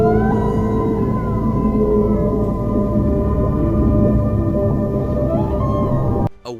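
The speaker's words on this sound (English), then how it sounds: "A whale sings a song at a frequency no other whales can hear" Long tonal calls of a whale singing, sliding and holding steady pitches over a dense low rumble, loud and continuous for about six seconds before cutting off abruptly.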